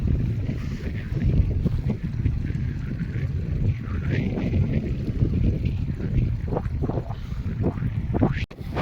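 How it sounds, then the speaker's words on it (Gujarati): Two water pump motors run in a farm field, giving a continuous loud rumbling drone with wind-like rushing noise, while faint voices come and go underneath. "2 મોટર ચાલુ કરી દો"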